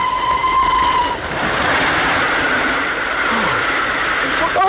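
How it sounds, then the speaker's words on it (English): Steam-era passenger train entering a tunnel in a 1957 radio drama, a loud continuous roar and rattle with a fading whistle tone early on, voices speaking over it. "The train going into the tunnel."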